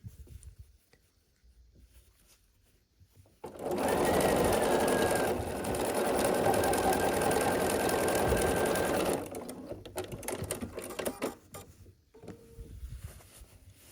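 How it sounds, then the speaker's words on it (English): A sewing machine stitching quilt block rows together, a steady close mechanical whir running for several seconds that starts and stops abruptly, with light handling noises around it. "just continue sewing these all together"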